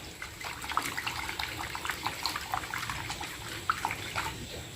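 Water mixed with ordinary dish soap being stirred by hand to work up foam, a steady wet swishing and bubbling with small splashes, close and continuous without talk.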